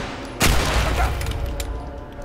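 Rifle gunshots in The Last of Us video game: a sharp, loud blast hits early and rings out into a long rumbling decay, with a fainter second report following about a second later.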